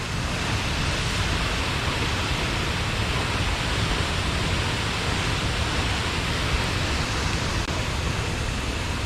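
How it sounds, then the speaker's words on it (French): A steady, loud rushing roar of falling water, unbroken and broadband, like standing near a jungle waterfall near Palenque, Mexico. "C'est une chute là. Une chute d'eau."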